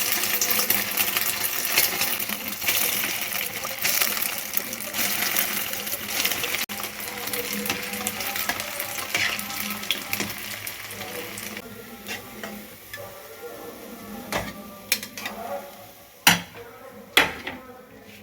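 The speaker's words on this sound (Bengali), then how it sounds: "এবার ভেজে নেবো এবার তেল গরম হয়ে গেছে এবার ডিমের ব্যাটারের মধ্যে আমি একটা একটা করে দেব দিয়ে আস্তে করে ছেড়ে দেবো" Semolina finger rolls coated in egg batter frying in hot oil, with a soft steady sizzle under clinks of utensils and pans, and a few sharp metallic knocks near the end, close and fairly quiet.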